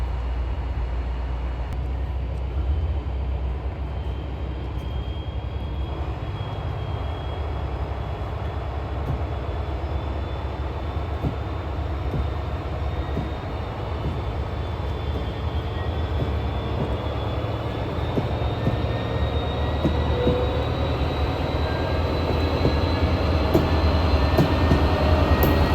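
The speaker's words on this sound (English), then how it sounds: "the Charger sounded its horn and the 29 Capitol Limited pulled out of Harper's Ferry Station" An Amtrak Capitol Limited passenger train led by a Charger locomotive departs Harpers Ferry Station, rumbling steadily for a long stretch, its low drone building slightly toward the end, with faint high whines drifting over it.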